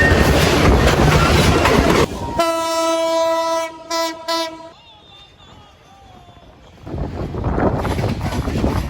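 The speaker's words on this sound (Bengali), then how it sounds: "দেখেন আরেকটা ট্রেন যেতেছে, একসাথে 3টা ট্রেন।" Trains pass near Tongi station in Bangladesh: loud rumbling rail noise gives way to a long, multi-tone train horn blast, then a quieter lull before heavy rolling clatter returns as another train goes by.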